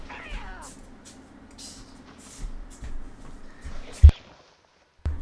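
A house cat meows near the start with a few more cries afterwards, over a quiet indoor background with faint shuffling, two sharp knocks and a short stretch of silence near the end.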